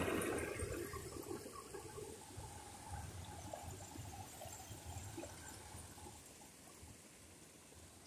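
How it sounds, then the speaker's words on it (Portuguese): Water pours over the spillway of a brim-full reservoir after heavy rains in Brazil's Northeast, a continuous broadband rush and splash that holds steady and fades slightly toward the end. "aqui é onde a água cai"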